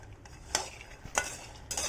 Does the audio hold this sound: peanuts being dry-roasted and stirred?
yes